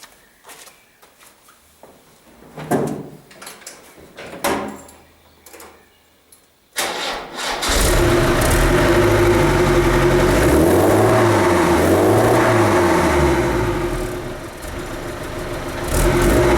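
A Land Rover under restoration, heard as quiet clicks and clunks before the engine cranks and catches, then revs loudly, rising and falling several times before settling toward a rough idle.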